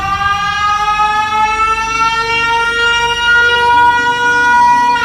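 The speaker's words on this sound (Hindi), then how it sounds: "जिससे एक तेज सायरन की आवाज आती है।" A loud, steady siren wails continuously at close range, a sustained harmonic tone from a horror story scene with no speech over it.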